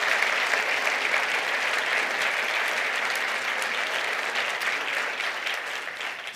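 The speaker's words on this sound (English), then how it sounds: "Let's give them a round of applause and thank them for being more to these roles." A large university audience at a presidential address breaks into sustained applause, dense clapping filling the hall evenly and easing off slightly toward the end.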